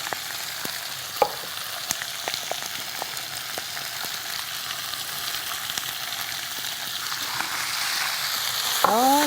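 Squid stir-fries in a pan with a steady, close sizzle and occasional sharp clicks of a utensil against the pan, with no talking.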